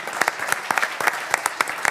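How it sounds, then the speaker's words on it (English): Audience applause at a city council workshop meeting in Myrtle Beach, a steady patter of many hands clapping together with sharp individual claps standing out throughout, no voices over it. "Why don't we just clap for him right now?"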